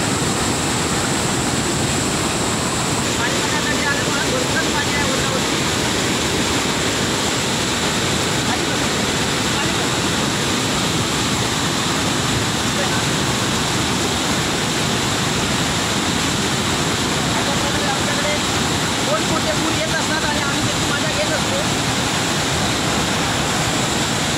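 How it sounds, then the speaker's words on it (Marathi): Torrential floodwater after a cloudburst and heavy rain in Kankavli roars in one steady, loud broadband rush for the whole stretch, with no break or change. "तुम्ही बघू शकता पाण्याचा प्रवाह किती जोराचा आहे तो."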